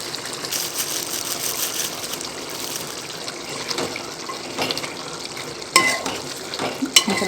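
Chicken curry cooking and being stirred in a pan, a moderate sizzling hiss with scraping stir strokes and a couple of louder clatters near the end.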